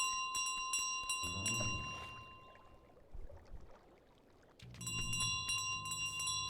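Bell ringing in Untitled Goose Game, bright metallic rings repeating in quick clusters, fading to a quieter stretch mid-way before the ringing resumes.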